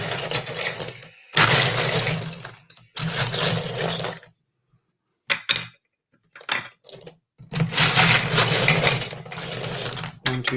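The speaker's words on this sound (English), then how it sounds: "love the sound of Lego. Lego being swooshed around" LEGO bricks are swooshed and rummaged around, clattering plastic rattles in several loud bursts separated by silent gaps, with a few brief clicks between them.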